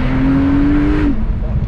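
A Porsche Turbo S tuned to around 900 horsepower accelerates hard. The engine note is loud and climbs steadily, then drops sharply as a gear shift comes in.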